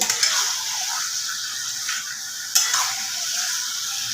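Marinated chicken sautéed on raised heat in a pan, a close steady sizzle with stirring scrapes and a sharp utensil knock partway through, no voices.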